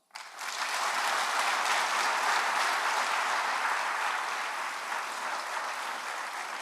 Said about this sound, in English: I think everyone I've mentioned deserves a round of applause